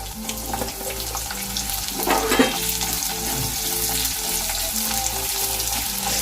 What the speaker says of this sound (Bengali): একটু কালো জিরে ফোড়ন দিলাম, আর পেঁয়াজ ফোড়ন দিলাম।